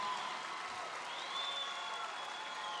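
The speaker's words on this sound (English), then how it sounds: "that always gets like the biggest applause" Rally crowd at a Donald Trump event in Arizona applauds steadily, with dense, sustained clapping and a faint cheer rising midway, loud and even throughout.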